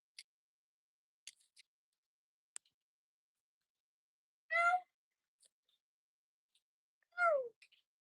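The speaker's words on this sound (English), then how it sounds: "Oh, Pete, you've become vocal again?" Two clear cat meows about three seconds apart, close by, with a few faint ticks and clicks between them in an otherwise quiet room.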